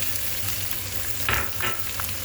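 Garlic frying in a hot pan for pasta vegetables, a steady broadband sizzle with a low hum beneath and a couple of brief louder crackles and stirring scrapes near the middle.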